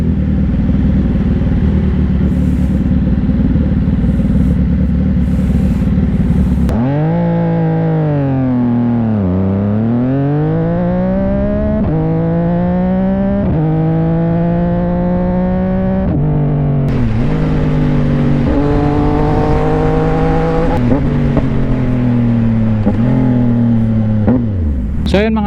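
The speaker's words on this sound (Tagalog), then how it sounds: "Appreciate muna natin yung tunog ng NK675" A CFMOTO 675NK motorcycle fitted with a full system exhaust idles with a rough, loud burble, then is revved repeatedly, its pitch sweeping up and falling back in long, sustained pulls close by.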